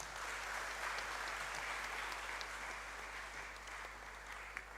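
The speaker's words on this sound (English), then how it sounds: "Please keep clapping until he takes his seat." A conference audience applauds in steady, dense clapping that runs throughout at an even, moderate level, with no voices over it.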